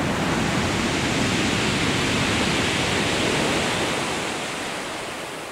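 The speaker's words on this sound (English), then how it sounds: "So that wind's picking up now." Strong wind and surf on Chesil Beach, a loud continuous roar of wind and breaking waves close to the recorder, easing slightly toward the end.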